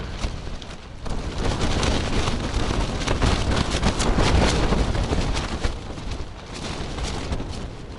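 Strong wind buffeting outdoors in a barren desert-like landscape, a rough, gusting roar with surging and easing bursts that persists throughout, loud and close with no voices.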